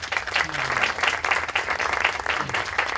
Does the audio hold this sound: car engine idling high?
no